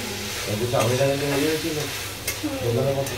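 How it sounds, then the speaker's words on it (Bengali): Dal tempered with radhuni spice in a home kitchen, with a loud close sizzle of hot oil and spice under stirring, and a voice murmuring over the frying. "রাঁধুনি ফোড়ন দিয়ে ডাল বানাচ্ছি"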